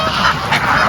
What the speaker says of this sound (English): I have ducks, I have geese, ducks and birds, and they are very interesting.